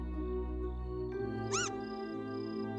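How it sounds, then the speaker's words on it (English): A cat-like creature in Trails in the Sky lets out a single short, rising-falling meow about midway, over a steady bed of game music. "Meow."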